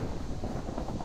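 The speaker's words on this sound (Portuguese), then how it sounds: "olha o vento, velho. Tá ventando muito aqui, essa tempestade aqui" Steady storm wind in Minecraft, a brief low rushing roar with no breaks.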